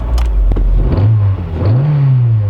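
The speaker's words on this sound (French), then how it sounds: "Donc on va faire chauffer le V12." A V12 car engine revs loudly and steadily to warm up, its pitch climbing and holding in a deep, sustained roar with no talking.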